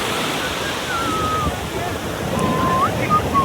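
Surf washes steadily onto Mangalore beach as a broad, continuous hiss and rumble, with faint wind noise mixed in.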